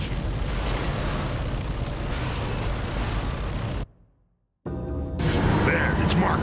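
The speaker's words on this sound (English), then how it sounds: "the exploding gas station." A gas station blows up in the video game Gears of War, a loud, sustained roaring blast that cuts abruptly to near-silence for about a second, then returns as rumbling with scattered debris and crackling.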